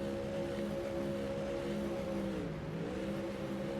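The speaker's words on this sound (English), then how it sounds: "that's Matt Benson that's doing the burnouts there" Race car engine in a GT3 racing game at Red Bull Ring doing burnouts, a steady loud droning roar with sustained harmonic tone that dips briefly and recovers, no talk.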